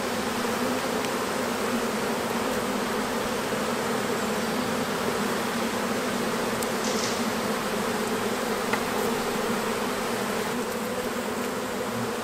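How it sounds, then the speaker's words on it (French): Hornets and honeybees buzz around a hive inside a tree trunk, a dense, continuous drone of many insects close by and steady in level, with no talk. "Ah, le frelon."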